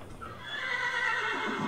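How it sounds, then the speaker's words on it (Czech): A horse in the Minecraft video game neighs once in a loud, drawn-out whinny that rises and then falls away, heard alone without talk. "Já se tady snažím ochočit koně a vůbec mi to nejde."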